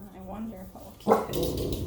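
A dog barks once sharply nearby after a woman's speech, followed by whimpering and shuffling noise under her voice.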